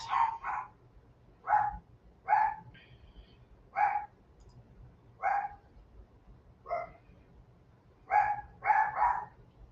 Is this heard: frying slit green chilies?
no